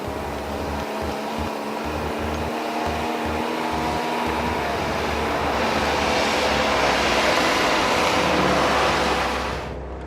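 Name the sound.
Iltis military vehicle engine pulling away in first gear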